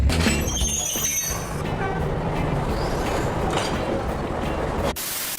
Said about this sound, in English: Today we are going to be riding a train here in Jamaica